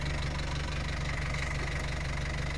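A used car's engine runs steadily with the windows closed during a test drive, a constant low hum with a faint knocking pulse and no voices.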